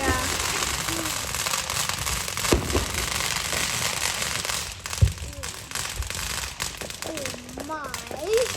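Fireworks crackle and pop on the Fourth of July, with sharp bursts and sizzling streams going off nearby, mixed with children's voices and talk throughout.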